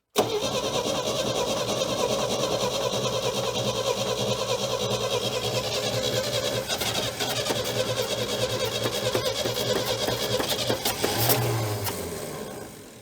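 The engine of an abandoned 1968 GMC truck, not run for 17 years, cranks and catches, then runs roughly and loudly up close in a continuous drone with slight revving before winding down at the end.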